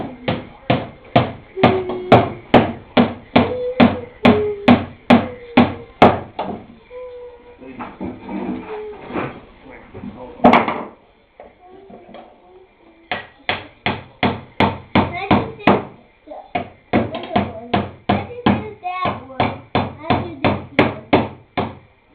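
A hammer drives nails into wood while a birdhouse is built, with long runs of rapid, loud, close blows separated by short pauses and bits of handling noise.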